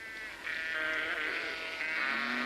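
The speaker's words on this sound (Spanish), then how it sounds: "Samuel oyó mugidos de vacas y balidos de ovejas" Sheep bleat in a farm setting: a long, wavering, nasal cry that swells in the middle and tails off, fairly close and clear, with no talking heard.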